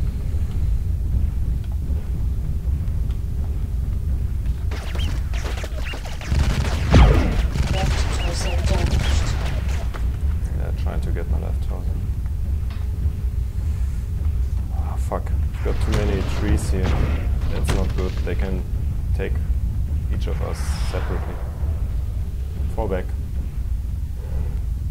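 Gunfire and heavy explosive blasts roll through a battle in the video game MWLL, a dense, continuous barrage with voices talking over the combat throughout.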